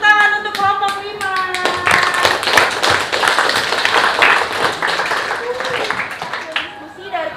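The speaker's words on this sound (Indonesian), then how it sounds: "Beri tepuk tangan untuk kelompok 5." A classroom group gets a burst of clapping from students after their presentation, with a voice talking over the start and the applause thinning into scattered claps as chatter continues.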